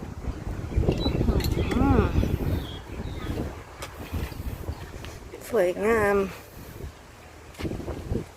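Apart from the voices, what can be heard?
cold wind blowing at a mountain campsite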